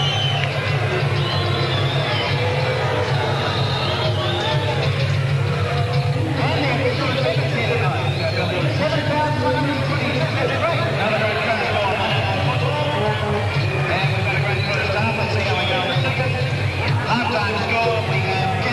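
Rugby league stadium crowd at a 1985 Canberra versus Wests round 20 match, a steady, dense hubbub of many voices filling the ground throughout, with no distinct individual sounds standing out.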